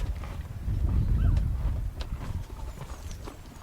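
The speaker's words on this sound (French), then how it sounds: "il y a un petit poney là-bas" Hooves of a small pony clip-clopping nearby outdoors, a few irregular thuds and knocks with a low rumble around them and no clear talk.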